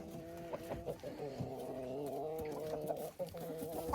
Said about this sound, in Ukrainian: О, оце наші всі півні.